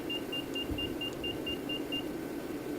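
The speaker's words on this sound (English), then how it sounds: "Alright, I am disconnecting autopilot." Autopilot disconnect warning in a V-22 Osprey flight simulator game, a steady repeating electronic beep pulsing about nine times over a constant engine drone.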